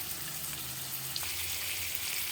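Coarsely sliced onion, a few small cardamom pods and a cinnamon stick sizzle steadily in hot oil, a close, even frying hiss with a faint hum beneath and no talking.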